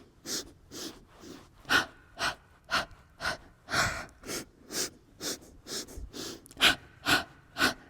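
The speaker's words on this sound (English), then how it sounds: "Let's inhale for 5 different counts. And exhale for 5 different counts." Rhythmic breathing during a Pilates mat exercise, a run of about fifteen short sharp inhales and exhales in a steady pulsing pattern, close and fairly soft.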